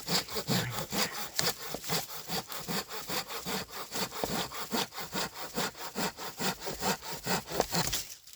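A Silky Pocket Boy folding saw cuts through dried hardwood in steady, rhythmic push-pull strokes, about two per second, close and loud throughout with no talking.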